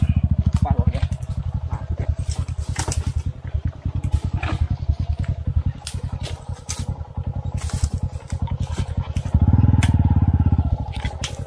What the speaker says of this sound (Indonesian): Kita parkir motor dulu.